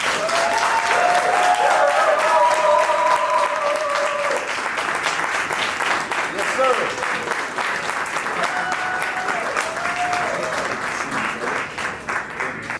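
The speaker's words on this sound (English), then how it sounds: "Everybody give a round of applause for Mr. Ryan Coogler." A large crowd at the Road to Africon 2023 event applauds loudly as Ryan Coogler comes out, with scattered cheers and voices over steady clapping and someone speaking briefly amid it.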